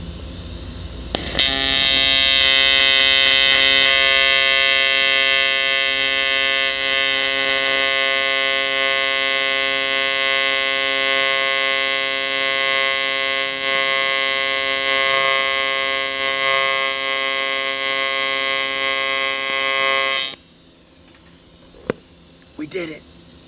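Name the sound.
welding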